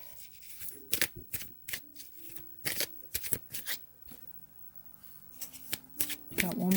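Tarot cards are shuffled nearby in short, crisp riffling bursts with brief pauses between them, and a soft voice murmurs in the background.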